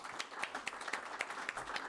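A short burst of audience clapping for candidates at a televised election forum. The claps are distinct and fairly rhythmic, close and moderately loud, lasting under two seconds.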